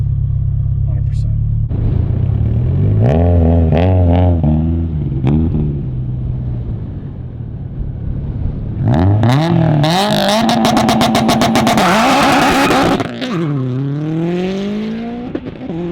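An 800 hp Subaru STI on 50 psi boost launches hard: a loud, close engine revs in rising sweeps through gear changes, with crackling pops and a sharp high-rpm burst before it drops off.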